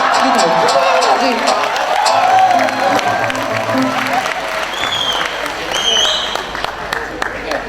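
An audience at a cultural gathering in Cairo honouring Gus Dur breaks into loud, sustained applause, dense clapping mixed with crowd murmur and scattered cheers that fades slightly toward the end.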